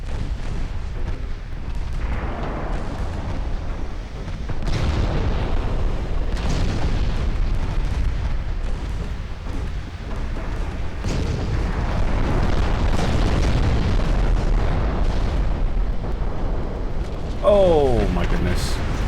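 Heavy artillery bombardment in a naval campaign of a strategy video game, a dense continuous rumble of overlapping booms and blasts with occasional sharper reports near the end, played at double speed.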